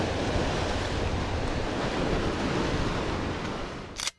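Sea waves wash in at sunset on a fishing outing, a continuous loud roar of surf mixed with wind buffeting the microphone, ending in a sharp brief noise.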